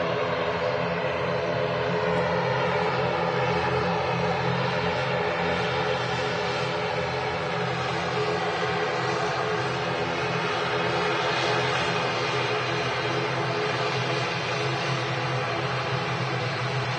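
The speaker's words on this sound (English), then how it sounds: "The Logan ATR 72 heading off to the Isle of Man." Loganair ATR 72 turboprop departing Manchester Airport for the Isle of Man, a steady, loud propeller-engine drone with a constant hum that holds across the whole stretch, with no talk over it.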